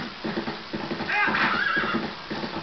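A horse galloping with rhythmic clip-clop hoofbeats and a loud whinny in the middle, from the video game Zelda Twilight Princess, close and clear with no talk over it.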